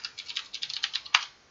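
Quick, light keystrokes clatter on a computer keyboard as a short terminal command is typed, about a dozen close taps in an uneven rhythm with one sharper final key press, heard alone.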